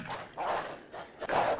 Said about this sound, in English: Bad dogs.